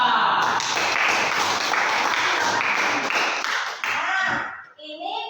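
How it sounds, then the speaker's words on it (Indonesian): A class of students claps hands for a classmate in a classroom: dense, steady applause close by for about four seconds, then tapering off into scattered claps and voices. "Kasih tepuk tangan dulu untuk siapa tadi?"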